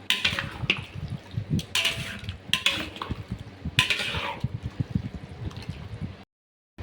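Meat with potatoes and spices cooking in a pot for biryani, with repeated clinks and scrapes of a utensil stirring against the pot and a soft sizzling, bubbling background, fairly close, ending in a brief silence.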